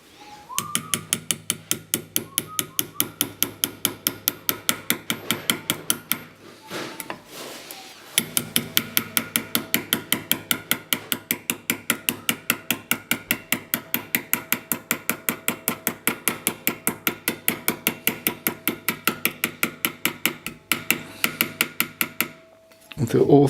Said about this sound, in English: Now with the hammer I will hit them in place.